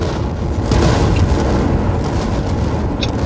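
A fireball blast in Dying Light 2 erupts as a loud, close, rumbling boom that lingers as a dense roar for a few seconds, with no talking over it.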